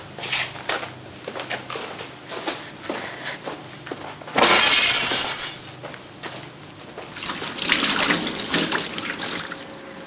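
Glass smashes loudly in a hospital office, a sudden bright burst of shattering followed by a second crashing spill of shards, with quieter clinks and tapping between.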